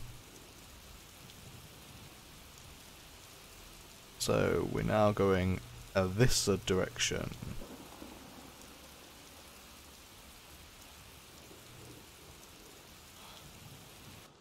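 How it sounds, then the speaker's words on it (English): Steady rainfall from a storm in the video game Skyrim hisses throughout, with someone talking briefly over it partway through. "Oh, it appears I've teleported into a storm."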